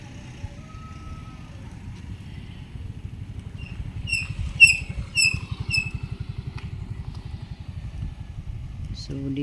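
A motorela, a motorized tricycle, chugs at a terminal with a low, rapid, pulsing engine throb that grows slightly louder, while voices talk and a few high squeaky chirps rise midway.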